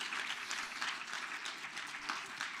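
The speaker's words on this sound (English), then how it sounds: "Let's give him a round of applause" A round of applause from a closing-ceremony audience at a health symposium, a soft, even patter of many hands clapping, fairly distant and faint, sustained throughout.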